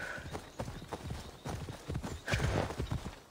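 Steady clip-clop of horse hooves trotting in the video game Assassin's Creed Odyssey, with a brief whinny near the start and again later, continuous and fairly close.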